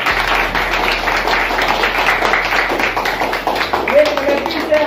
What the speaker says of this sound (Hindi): अपने लिए तो कम से कम जोर से तालियां करो